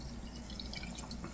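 Orange and cream THC soda drips onto work pants in a brief run of soft, faint drops over a quiet background.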